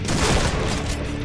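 Dense burst of rapid gunfire from the online shooter Point Blank during a headshot kill, loud and continuous with overlapping booming shots throughout.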